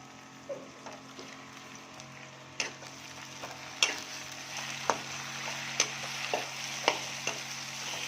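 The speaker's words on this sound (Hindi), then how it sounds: "अच्छी तरह हम भूनेंगे, टमाटर भी गल जाए।" Chopped tomatoes and browned onions frying in a pan for fish biryani, a continuous soft sizzle broken by regular spatula scrapes and taps on the pan every second or so, close up, with no talking.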